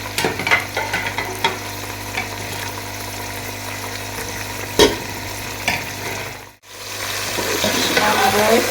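Beef pieces sizzling in a pan of light-brown fried onions, crackling frying noise with scraping stirs and a few sharp knocks, briefly dropping out near the end before the sizzle returns louder.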